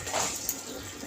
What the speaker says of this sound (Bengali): যে যেমন গ্রেভি রাখবেন সেইভাবে জলটা দিতে হবে